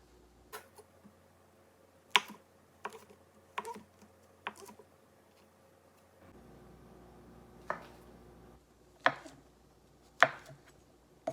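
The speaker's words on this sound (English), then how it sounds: "we will take the baby Bella mushrooms, rinse those off, and chop them up into" Baby Bella mushrooms being chopped with a knife on a cutting board, sharp separate thuds in an irregular rhythm, close and clear against a quiet background.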